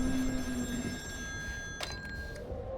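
Telephone ringing in the video game Still Wakes the Deep, an electric bell trill with a sustained metallic tone, moderately loud over a low ambient background.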